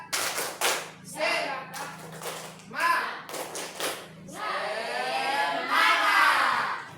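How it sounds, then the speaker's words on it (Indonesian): Children in a classroom perform a rhythmic 'tepuk semangat' clapping chant, bursts of patterned claps and voices under a teacher's speech, close and moderately loud. "Sekali lagi adik-adik tepuk semangat."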